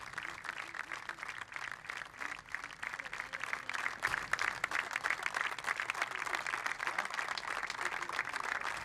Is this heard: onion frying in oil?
no